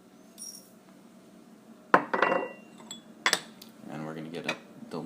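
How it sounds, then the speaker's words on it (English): Dry loose-leaf Japanese sencha green tea tipped into a preheated ceramic kyusu teapot, giving sharp clinks and a light rattling patter close by, with faint sounds of handling around it. "so now we will pour our leaves in."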